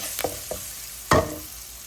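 A turmeric and chili tempering fries in a pan, a soft steady sizzle broken by a few quick scraping stirs, one of them notably louder, heard up close.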